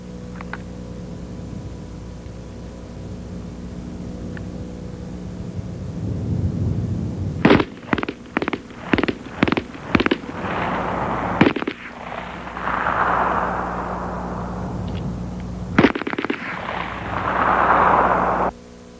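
Bursts of WW1-era MP-18 submachine gun fire at a trench assault range, several short rapid volleys between about 7.5 and 18 seconds, loud and close, with quieter background before the first burst.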